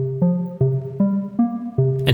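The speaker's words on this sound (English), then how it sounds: "now here's how it sounds just going through the comb filters." Signal run through comb filters in a 1960s-style reverb design: a sequence of about six plucked, pitched notes, each with a metallic, ringing resonant tail, evenly spaced and moderately loud.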